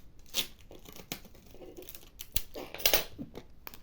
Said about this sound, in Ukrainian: І ще трохи скотчу.